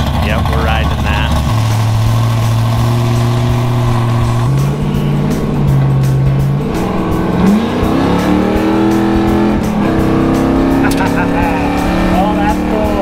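An LS V8-powered Corvair, essentially a Corvette drivetrain under Corvair bodywork, runs loud and close with steady engine harmonics that rise and shift between revs, while people talk over it throughout.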